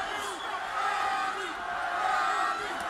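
A boxing arena crowd cheering for Spadafora during a late round, a sustained mid-distance roar of voices that swells slightly toward the end.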